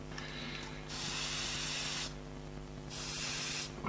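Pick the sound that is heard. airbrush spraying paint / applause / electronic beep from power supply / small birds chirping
airbrush spraying paint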